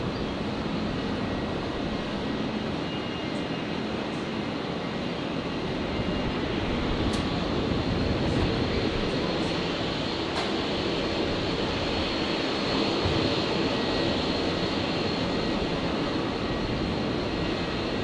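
A Boeing 737 on its takeoff roll at Brisbane Airport, bound for Sydney, produces a loud, sustained broadband engine roar that stays steady throughout, with a few faint higher tones; no talk.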